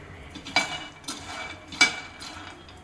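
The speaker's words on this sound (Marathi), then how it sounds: "आता आपण शेंगदाणे भाजून घेत आहोत आता हे मंद आचेवर खरपूस आपल्याला शेंगदाणे भाजून घ्यायचे" Peanuts dry-roasting over a low flame in a pan, stirred with a utensil that scrapes and clinks against the metal in a few sparse, quiet strokes.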